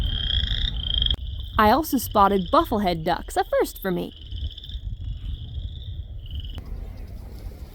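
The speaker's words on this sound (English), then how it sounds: "I heard this cacophony of frogs." A dense chorus of frogs croaks and trills in a wetland near a football field in late April, loud and continuous, while someone narrates over it.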